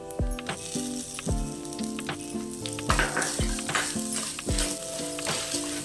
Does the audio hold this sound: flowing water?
no